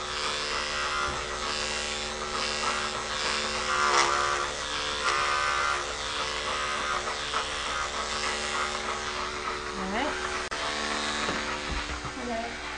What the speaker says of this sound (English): flicking my blade, my clipper, as I get closer to that line